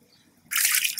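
Water pours into a cup in a sudden bright splashing rush that starts halfway through after near silence and keeps going to the end.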